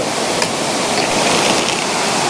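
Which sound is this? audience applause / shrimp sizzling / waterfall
waterfall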